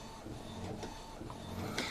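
An Epson L15160 printer prints in quiet mode, a steady close mechanical whir with soft rhythmic clicks and shuffling paper movement, running alone without talk.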